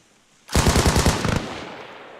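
A close, loud burst of machine gun fire rings out during US Army platoon training, about a second of rapid shots followed by a fading echo.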